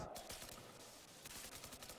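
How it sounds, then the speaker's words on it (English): Rapid gunfire during a competitive video game match, dense crackling bursts of shots that are fairly quiet and slightly distant, with no voices. "So based on the sounds of the gunfire, maybe you can tell how many people are there."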